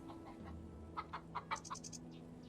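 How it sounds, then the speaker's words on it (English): A chicken in the video game Wandering Sword gives a quick series of five or six short, soft clucks over a low steady background hum, then a few higher chirps. "Chicken."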